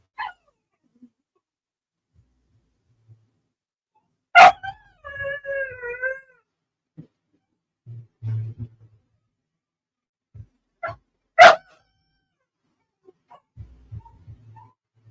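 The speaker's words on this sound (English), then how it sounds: "It's just my sister's dog." A dog gives a few sharp, isolated barks and a brief whining, howl-like cry, spaced out with long quiet gaps in an otherwise silent room.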